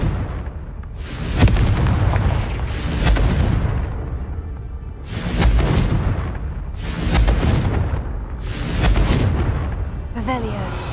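Spell blasts from the Confringo spell in a video game burst repeatedly, about every two seconds, each a loud, roaring explosion with a long rumbling tail, and a voice speaks in between.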